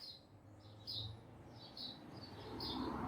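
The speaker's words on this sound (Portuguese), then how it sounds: "Peço desculpa pelos pássaros" Birds chirp outdoors in a steady series of short, high tweets, soft and somewhat distant, over a low hum and faint traffic-like background noise.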